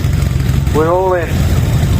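Vintage motorcycles, including NSU machines, rumble past in a classic bike parade at Whitby, a steady low engine drone throughout with a short voice rising over it midway.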